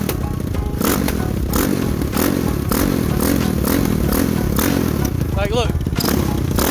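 Lifan KP Mini 300 motorcycle with a 4-valve ZS175FMN engine and upgraded carburetor revs repeatedly as the throttle is pulled, loud and close, with clattering mechanical noise between the bursts.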